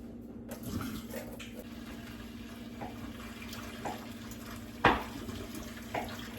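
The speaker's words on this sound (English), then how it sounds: "Gonna pour them out in the sink." Cooked blue crabs and their boiling water poured out into a kitchen sink, a soft, steady wash of running water with a few sharper splashes and knocks near the end.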